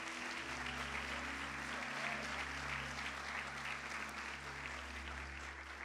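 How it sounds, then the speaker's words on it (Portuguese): A church congregation applauds in a Portuguese-language service, steady dense clapping heard from a distance at low volume over a low, sustained hum, without a break for about six seconds. "Um aplauso a Jesus"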